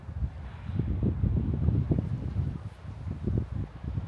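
Strong wind buffets the microphone on an empty sandy beach at Par Beach, St Martin's, giving steady low gusting roar that swells and eases throughout with no voices.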